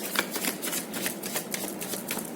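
Tarot cards being shuffled by hand in a quick, steady series of papery riffles and slaps, close and clear with no talking.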